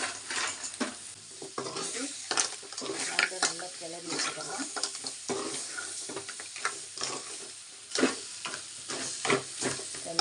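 Crab pieces stirring and frying in a little oil in a pan, a constant sizzle broken by repeated scraping stirs, close up, with someone talking over it.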